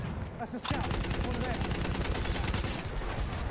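Rapid bursts of Battlefield 1 video game gunfire crackle in quick succession, a dense automatic volley that runs nearly continuously and loud.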